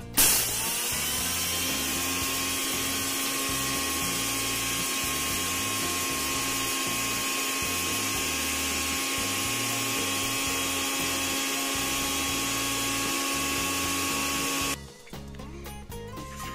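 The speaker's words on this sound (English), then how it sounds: "And I'm gonna grind with one hand now." An electric grinder grinds sugar into powdered sugar, giving a loud, steady, high-pitched motor whine that runs unbroken for about fifteen seconds and then cuts off abruptly.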